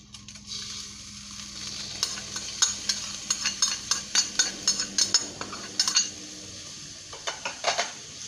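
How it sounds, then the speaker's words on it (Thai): Eggs frying with chili are stirred in a pan, a utensil scraping and clinking in quick, uneven strokes over a faint, steady sizzle, close and with no talk. "แล้วก็คนเข้ากันครับผม"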